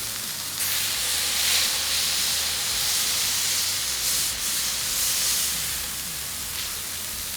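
A second burger patty sizzling on a hot griddle for an In-n-Out Animal Style burger, a steady, close frying hiss with crackling that swells slightly and holds throughout, no talking.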